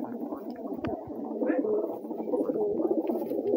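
Low, murmuring coos from several pigeons, including white ones, blend into a steady, continuous burble, close by and unbroken throughout.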